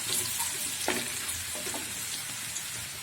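Chopped onion hitting hot cooking oil in a pan, a soft continuous sizzle with occasional stirring scrapes, fairly quiet and close.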